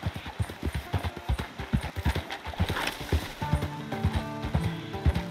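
Horse hooves clip-clopping in Red Dead Redemption 2, a steady rhythmic trot of close, clear hoofbeats, joined partway through by tonal music and faint game sounds.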